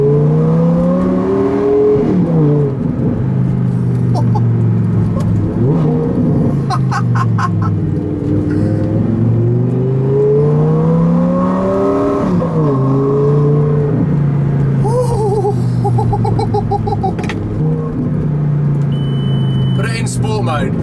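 Lamborghini fitted with an Armytrix exhaust revs loudly and continuously, engine pitch sweeping up and down through repeated rises and drops, close and dominant, with brief higher whines and beeps near the end.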